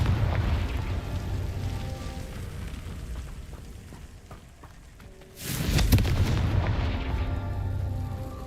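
The Confringo blast spell in Hogwarts Legacy goes off as a loud, sudden explosive burst midway, over a steady rumbling wash of game sound that swells afterward.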